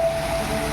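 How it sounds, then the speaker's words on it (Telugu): Falling and flowing water makes a continuous, even rush with no pauses or voices. "ఇక్కడైతే వాటర్ భలే పడుతుంది కదా!"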